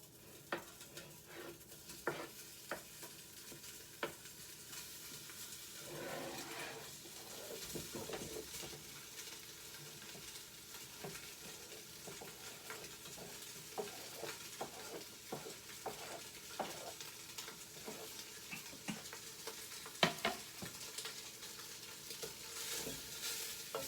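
Vegetables sauté in a pot with a steady, quiet sizzle, broken by scattered stirring scrapes and light clinks of a utensil against the metal throughout.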